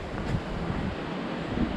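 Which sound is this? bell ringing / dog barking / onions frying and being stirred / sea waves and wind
sea waves and wind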